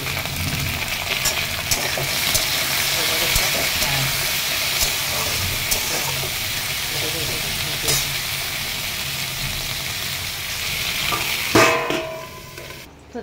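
Dal made from lentils cooks in a pot, giving a continuous loud bubbling hiss and steamy sizzle up close, with a few clanks near the end.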